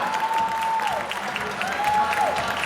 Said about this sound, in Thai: ปรบมือให้แม่น้องกันครับ